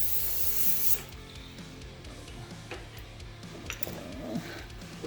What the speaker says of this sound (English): Spray in there, make it as dark as you want.